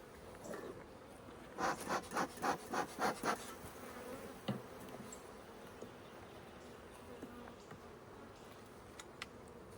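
Honeybees hum in the background while beekeepers inspect hives for swarm cells, joined by a run of rapid close rustling or scraping bursts near the start and scattered soft clicks afterward.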